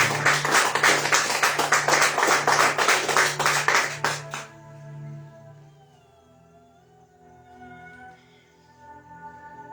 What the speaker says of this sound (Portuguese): Pode aplaudir ao seu Salvador Jesus Cristo esta noite.